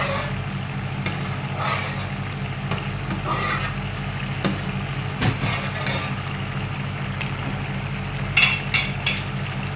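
Spice masala frying with tender cooked bone-in meat for nihari, a continuous close sizzle with occasional scrapes and knocks of a spoon against the pot, no speech.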